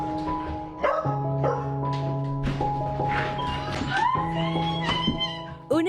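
A small pet dog barks and yips excitedly while greeting astronaut Christina Koch on her return home from a space mission; a few short barks rise over steady background music.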